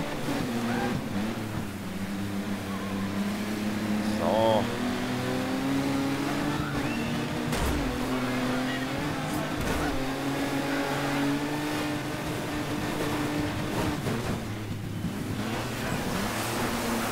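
A rally car in the Colin McRae Dirt 3 video game revs at full throttle, a loud, continuous engine drone whose pitch climbs and dips with gear changes across the whole stretch.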